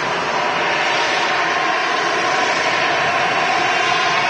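An EasyJet passenger jet taxis at Manchester Airport, giving a steady, broadband engine roar that holds at an even, fairly loud level throughout with no talking over it.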